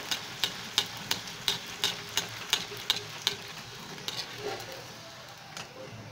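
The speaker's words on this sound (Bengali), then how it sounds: "লুচি ছেড়ে দিয়েছি তেলে দেখুন সুন্দরভাবে ফুলে উঠছে" Aloo luchi, a potato puri, frying in hot oil, heard as a soft, steady sizzle with a run of evenly spaced, sharp ticking taps in the first few seconds before it settles into a quieter hiss.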